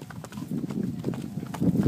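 Horse hooves clip-clopping on a trail during a horse ride at Taal, a steady uneven rhythm of close thuds over rustling movement noise.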